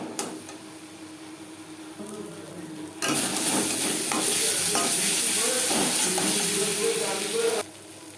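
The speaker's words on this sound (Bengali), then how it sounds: "লবণ হলুদ মশলা ও পেঁয়াজ টমেটোর সাথে বেশ ভালো করে মিক্স করে দেবো" Salt, turmeric, spices, onion and tomato being stirred together in a pan for Bengali doi katla, quiet at first, then a loud steady sizzle and scraping that runs for several seconds before dropping back.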